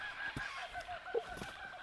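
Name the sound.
flock of cockatoos calling noisily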